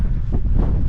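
Strong wind of about 20 miles per hour on an English hilltop buffets the microphone with loud, continuous roaring gusts for a brief moment.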